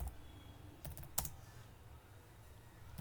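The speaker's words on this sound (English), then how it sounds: "So let's type the command, which is pip" Keys tapped on a computer keyboard while entering a pip install command in a virtual environment, a few soft close clicks with one sharper keystroke, no voices.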